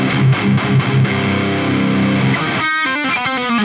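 An over-gained metal guitar tone through the Revalver 4 amp simulator plays dense, heavily distorted chugging and chords, loud and close, with a fizzy high end and no voices.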